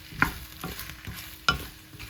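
Thinly sliced onion stir-fried for a potato curry, a low sizzle broken by a few sharp scrapes and taps of a utensil against the pan, no voices.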